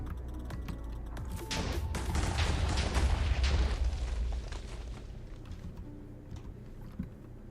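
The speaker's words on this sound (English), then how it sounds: "let's see if I kill myself with this wonderful concoction of TNT that I've made up here" A large TNT blast in Minecraft, a sustained rumbling explosion that swells over a few seconds and then tails off into quieter debris-like crackles, with no talking.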